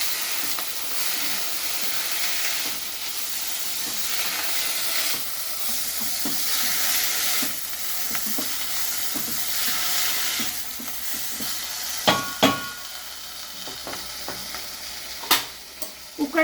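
Roosachi Ghashshi masala, a Mangalorean Saraswat Konkani curry paste, stir-fried in a pan: a steady close sizzle and hiss with soft scraping strokes, then a few sharp clinks of the spoon against the pan near the end.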